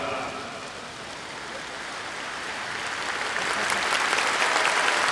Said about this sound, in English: Next thing is a clap.